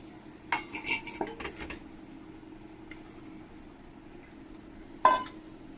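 Metal utensil clanks and scrapes against a pot as vegetables are stirred into vegetable biryani, a burst of clatter early on, then quiet with a few faint ticks and one sharp knock near the end.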